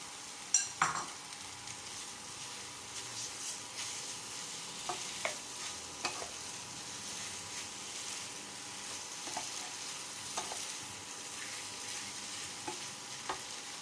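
Wide rice noodles for pad see ew stir-fry in a hot pan with a steady sizzle, punctuated by occasional utensil clanks and scrapes as they are tossed, close up and without speech.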